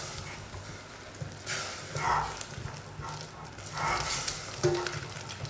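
A spatula works flour into hot eclair choux dough in a pan, making soft scraping and stirring strokes at an uneven pace over a low background hiss.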